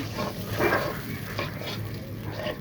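Frozen tomatoes sauté with ginger, garlic, cumin paste and turmeric in a pan, a soft sizzle under slow scraping spatula stirs, close and continuous.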